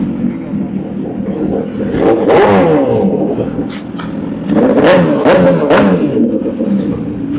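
A high-pitched MV Agusta naked motorcycle engine accelerates hard through gears on a road ride, twice rising in pitch with a loud rumbling snarl and quick-shift breaks between pulls.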